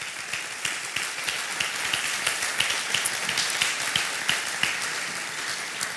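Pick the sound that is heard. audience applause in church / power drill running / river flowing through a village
audience applause in church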